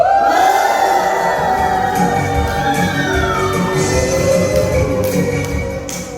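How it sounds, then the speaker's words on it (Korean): An audience at a company workshop lecture in Jeju shouts and cheers together in one steady, loud, continuous roar of many voices, with no pause. "이 봉투가 내 거다라고 생각되시는 분 함성 한번 쳐주십시오"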